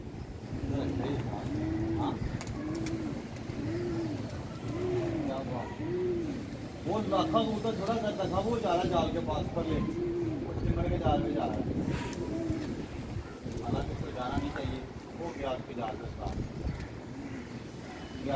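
Soft, repeated pigeon coos rolling in a steady rhythm near a pigeon net, with people talking over them and a little wind noise in the background.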